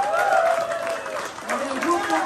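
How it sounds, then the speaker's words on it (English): Audience applause for a group at a leadership seminar, a steady wash of clapping largely buried under loud voices and cheering. "let us give a round of applause to group number"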